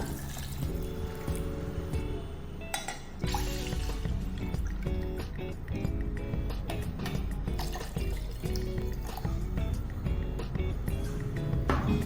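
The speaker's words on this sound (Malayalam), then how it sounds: "ഇവിടെ ഞാൻ ഒരു 2 കപ്പ് വെള്ളമാണ് ചേർക്കുന്നത്." About two cups of water poured into a mixer jar for a pineapple lime drink, a steady splashing and gurgling fill lasting several seconds at close range.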